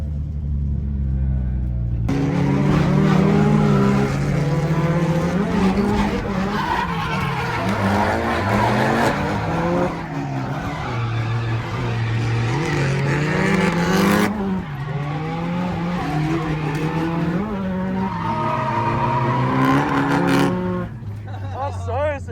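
A race car circles a famous Japanese track, its engine revving up and down through gear changes with tires squealing and skidding through corners, loud and close throughout, with an occupant talking over it.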